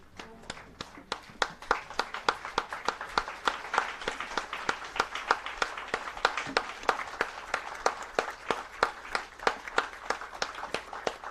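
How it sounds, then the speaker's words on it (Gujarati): An audience at an award ceremony for donors rises in a standing ovation. Sparse, distinct claps build into steady, moderately close applause that keeps going throughout. "I request all the audience to give a standing applause to the donors."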